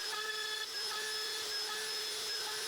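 A PROVerXL 4030S CNC machine's rotary module carves a wooden screwdriver handle, giving off a steady, faint, high motor whine with continuous cutting noise and no pauses.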